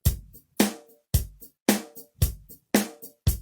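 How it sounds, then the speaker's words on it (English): A tight drum groove loops steadily, kick and snare hits alternating in an even, punchy rhythm, close and dry with silence between strokes. "drummers who want to play grooves that might sound like this."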